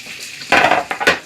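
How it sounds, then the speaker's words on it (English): Metal utensil scraping and clattering in a pan as potatoes are stirred in hot butter, a few quick bursts over a soft frying hiss. "We put our potatoes in the nice hot sizzling butter."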